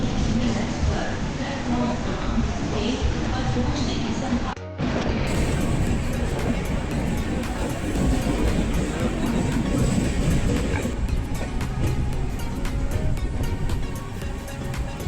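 A train at Kota Junction railway station in Rajasthan gives a sustained, loud rumble with clattering and knocking of rail cars. A brief break comes partway through, and there may be faint voices in the background.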